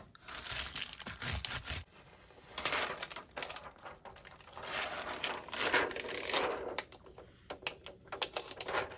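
Transfer tape crinkles and crackles as it is folded and pressed down onto a shirt, a close, uneven run of dry crumpling and rustling bursts with brief pauses.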